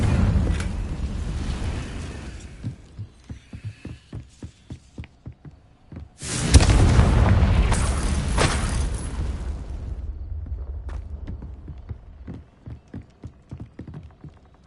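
Blasts of the Confringo spell in Hogwarts Legacy: a sudden booming explosion that roars and slowly fades, with sharp periodic thuds and footsteps before and after.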